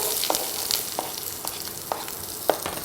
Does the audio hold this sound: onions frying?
yes